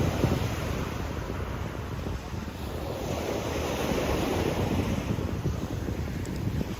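Ocean surf rolls in steadily along Sunny Isles Beach in Miami, Florida, a continuous broad wash of breaking waves mixed with wind buffeting the microphone, with no speech heard.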